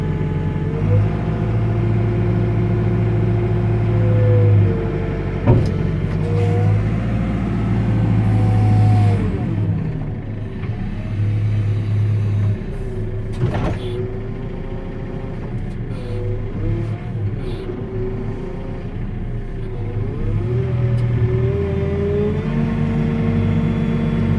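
A 2018 JCB 531-70 Agri telehandler engine runs close by, a steady low diesel rumble that rises and falls as the throttle is opened and eased off, with the pitch climbing and dropping several times across the clip.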